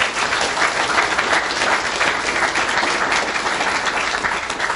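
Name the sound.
applause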